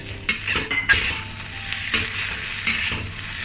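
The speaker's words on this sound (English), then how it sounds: "Stir fry over high heat for half a minute." Indonesian village-style fried rice is stir-fried over high heat, a close, busy sizzle with rapid scraping and clanking of a spatula against the pan in the opening second, then a steady hiss.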